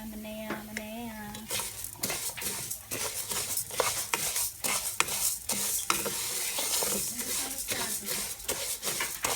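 Potatoes being stirred in a frying pan for Mexican rice, a utensil scraping and clattering against the pan in quick, uneven strokes over a steady sizzle, close and busy throughout, with a little talk at the start.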